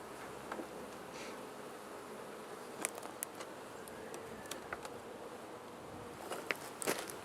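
Honeybees buzzing at an open hive during a spring inspection, a steady swarming drone with individual bees zipping close past the head, plus occasional soft clicks and handling noises.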